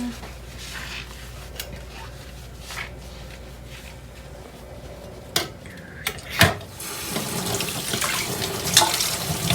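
Running water pours into a sink while dishes are washed, with clinks of plates and cutlery that grow busier toward the end, and voices talking over the washing.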